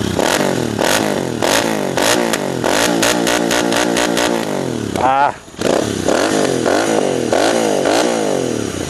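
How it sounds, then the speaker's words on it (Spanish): A Royal Enfield Interceptor 650 motorcycle fitted with larger aftermarket exhausts revs repeatedly up close, loud rising and falling bursts with a brief dip midway, and a short vocal exclamation over it. "Vamos a encenderla porque me encanta el sonido de la moto."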